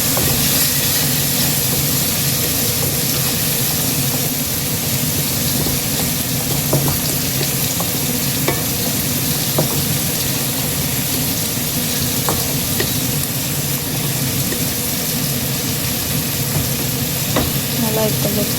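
Masala frying in a pan for a North Indian style chicken gravy, a steady broadband sizzle and hiss running continuously throughout, with occasional faint clicks of a utensil against the pan.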